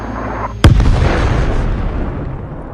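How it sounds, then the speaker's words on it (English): A Bradley fighting vehicle fires a TOW missile in combat against Russian vehicles: a sharp loud blast after a moment of rumble, followed by a long rolling roar that slowly fades. "One of the Bradleys then fires a tow missile."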